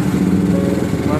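Motorcycle engine running steadily up close after a long trip, a continuous buzzing drone with talk over it.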